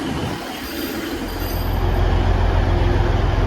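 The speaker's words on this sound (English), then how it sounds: "That's the train I just got off, 150 113." A Northern Class 150 diesel train, unit 150 113, at a station, with its loud engine hum building steadily and wheels squealing on the rails as it prepares to leave.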